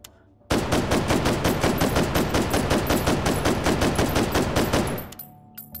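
Automatic gunfire in the VR shooter Hot Dogs, Horseshoes & Hand Grenades: one long, loud, rapid burst of evenly spaced shots lasting about four and a half seconds, then a brief quieter tail.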